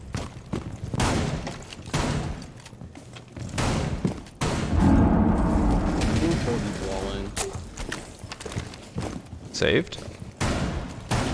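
Dense video-game gunfire and grenade blasts crackle and boom in quick succession, with a heavy rumbling explosion midway, while a player talks over the action.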